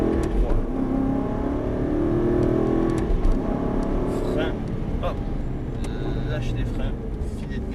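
Aston Martin V8 car accelerating on a race track at Dreux, a continuous engine roar rising and falling with throttle, with an instructor talking over it throughout.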